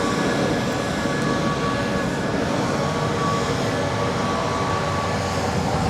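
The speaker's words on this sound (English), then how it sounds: "Spirit Airlines flight 649 coming in from Las Vegas. It's an A320." A Spirit Airlines Airbus A320 jet arriving at Los Angeles airport, flying in from Las Vegas, gives a steady, loud broadband engine roar with a faint tonal whine that holds constant throughout.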